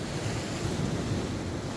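Sea waves roll onto the coast in steady, regular sets during a heavy sea-storm swell, a constant broad wash of surf mixed with wind, faint and continuous with no talking.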